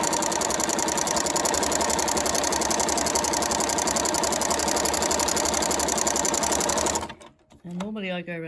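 A sewing machine with a flower stitch foot stitches in a steady, fast, loud mechanical chatter for about seven seconds, then stops abruptly, and a person starts talking.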